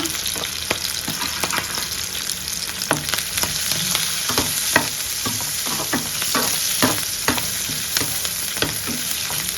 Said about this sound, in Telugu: నిలువుగా చీల్చుకున్న ఒక రెండు పచ్చిమిరపకాయలు అయితే వేసుకోండి బాగా వేయించండి